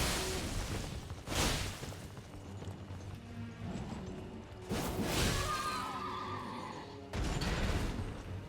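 A horse whinnies repeatedly in an Elden Ring boss fight, over whooshing swings and crashing impacts, with quieter hoofbeats between the louder bursts.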